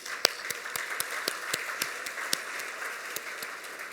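An audience applauds a newly appointed IT secretary with a faint, steady spread of clapping, where scattered sharper individual claps stand out over a softer background of many hands.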